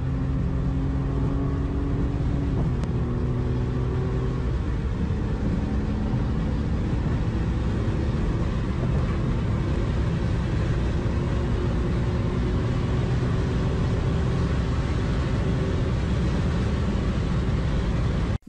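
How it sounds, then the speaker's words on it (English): A BMW driven fast and recklessly roars steadily as it passes, its engine note shifting around the fifth second, then a continuous loud rumble of engine and road noise with no voices. "All he does is drive his mom's BMW fast and recklessly"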